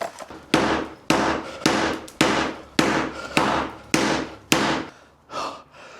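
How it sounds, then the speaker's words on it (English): A hammer pounds through wood while creating cellar access from a cottage kitchen, landing about eight heavy, evenly spaced blows close by, each with a sharp crack and short ring, then a fainter knock at the end. "Right, I need a bigger hammer."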